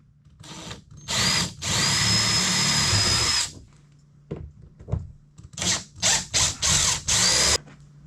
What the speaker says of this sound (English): drill a pilot hole in another piece of material